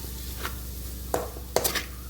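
Potatoes frying with chili powder in a pan are stirred, a quiet steady sizzle under a few distinct scraping strokes of the spoon against the pan.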